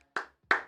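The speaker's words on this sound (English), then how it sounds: "Clap it up." Two sharp hand claps, close and dry, a short pause between them, with nothing else audible.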